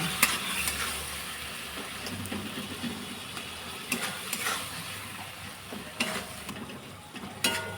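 Masala sautéing in a pan after a splash of water for chicken keema, a continuous close sizzle with periodic sharp scraping and stirring clacks from a utensil.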